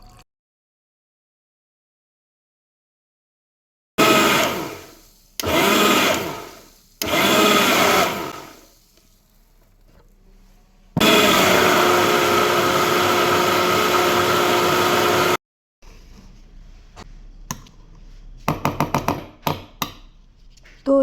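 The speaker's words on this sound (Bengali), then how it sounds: "চিনি পাউডার আর দুধটাকে একটুখানি মিক্সিতে তো ভালো করে 5 মিনিটের মতো ঘুরিয়ে নিয়েছি" An electric mixer grinder whirs through powdered sugar and milk in loud, close bursts: three short pulses, then a longer sustained run of several seconds, followed by clinks and rattles of the jar being handled.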